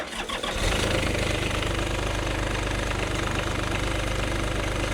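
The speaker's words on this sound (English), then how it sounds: "Watch how easy this thing fires up" A turbo diesel engine on a John Deere motorcycle cranks briefly and fires up, then settles into a loud, steady, knocking diesel idle close by with no talk.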